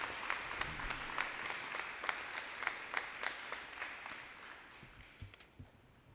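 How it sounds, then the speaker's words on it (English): Audience clapping at a middle school activities awards day for a student record holder, scattered sharp claps from a modest crowd, fairly faint and tapering off toward the end. "So let's give her a round of applause."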